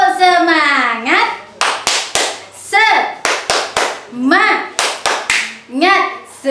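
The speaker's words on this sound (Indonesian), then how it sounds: "kita tepuk semangat dulu biar tambah semangat" Young children in a classroom chant loudly in unison while clapping a rhythmic spirit clap, with sharp close hand claps punctuating their voices in a repeating pattern.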